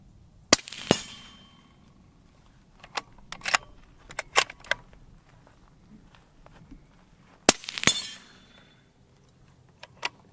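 A suppressed .308 sniper rifle firing full-power loads at a small steel popper target: two sharp, close cracks, each followed by a ringing metallic clang, with light clinks and ticks between and no talk.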